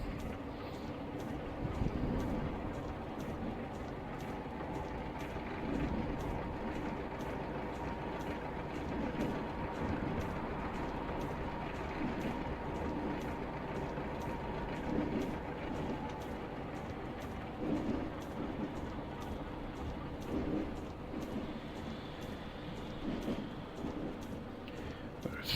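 A Class 33 diesel locomotive in Train Simulator Classic climbs a 1 in 91 gradient between Bishop Lydeard and Minehead, with a continuous low engine rumble and rhythmic wheel clatter at a steady pace and no talking.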